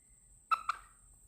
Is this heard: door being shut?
no